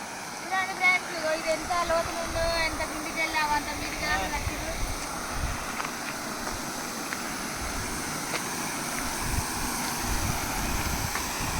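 Water rushes steadily over a village check dam in rural Telangana, a constant broad roar with some wind buffeting on the microphone. It stays fairly even throughout, moderately loud, with no clear speech.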